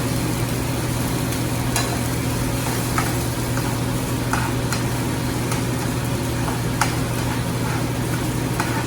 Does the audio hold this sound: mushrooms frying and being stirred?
yes